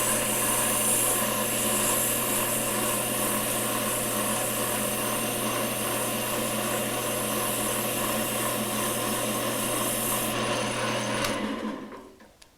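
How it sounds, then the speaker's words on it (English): Sandpaper rubs against wood spinning on a lathe in a woodworking shop, a steady continuous hiss over the motor's hum that runs unbroken before stopping abruptly near the end. "You have to keep moving the sandpaper or else it will burn it and there will be no use for it anymore."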